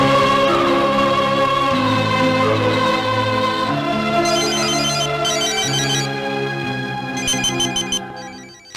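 A telephone rings with a loud, continuous melodic ringtone in a scene from a Hindi-dubbed South Indian action film, running for several seconds before fading out, with no voices over it.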